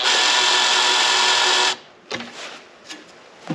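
A drill with a 1/4 inch bit bores into metal for a folding camping grill, running loud and steady for under two seconds before stopping, followed by a few faint clanks and handling noises.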